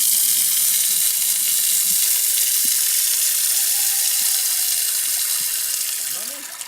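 Water gushes steadily from an outdoor tap in Unini, Peru, in a continuous hissing rush, with faint background sounds, tapering off slightly at the end.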